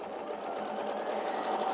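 An Elna 680+ sewing machine stitches fabric with a steady, even motor whir and rapid needle rhythm, close and fairly quiet, running continuously without talk.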